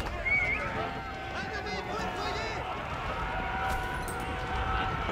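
Horses whinny and hooves clatter in an Age of Empires IV match, horse archers and knights skirmishing amid game effects, with a commentator talking over the busy, continuous action.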